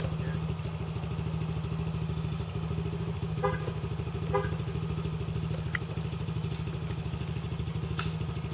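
A dirt bike engine runs steadily with a low, rough drone throughout, mid-distance, with faint clatter and a few brief high chirps over the constant hum.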